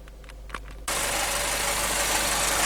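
A Chevrolet Spin engine idles with a light knocking from a faulty canister solenoid valve. After a quiet start with faint taps, a loud, close, steady engine drone with a faint repetitive ticking cuts in and continues.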